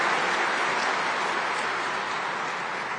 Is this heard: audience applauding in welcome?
yes